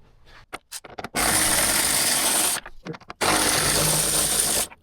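A power tool spins out Torx screws holding a part on a 2025 Road Glide motorcycle during a spoiler kit install, whirring in two loud sustained bursts, each about a second and a half, separated by brief knocks and handling noise.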